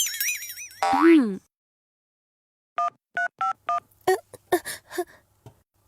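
A short run of electronic telephone keypad tones from a cartoon, about six clean beeps in an even rhythm, preceded by a springy boing and a rising whistle effect, then scattered clicks and short cartoon noises.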